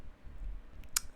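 A single short, faint click of a key being pressed on a computer keyboard, the Alt key, heard alone against a quiet background near the end.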